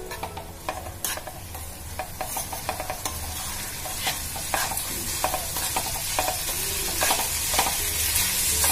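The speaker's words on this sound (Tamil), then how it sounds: "ஆட் பண்ணிட்டு இதை நல்லா மிக்ஸ் பண்ணி விடலாம்" Mixed vegetables for a Tamil-style poriyal frying in a pan, with a steady sizzle beneath frequent scraping and clacking of a spoon as the mixture is stirred close up, no talking.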